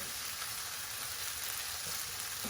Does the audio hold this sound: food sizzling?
yes